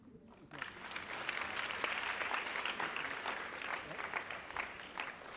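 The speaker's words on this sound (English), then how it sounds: "A round of applause, ladies and gentlemen, once again, for the Executive Secretary of the Organization of African First Ladies for Development." A conference audience in Freetown, Sierra Leone claps steadily, a faint but sustained wash of applause that continues for several seconds after a short quiet start.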